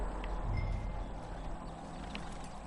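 Horse hooves clip-clop at a steady pace in Red Dead Redemption II, moderately loud over a low rumbling game ambience with no talk.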